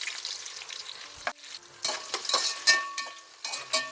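Onions sizzle in hot oil and ghee for biryani, a close crackling fry broken by bursts of stirring and scraping in the pan.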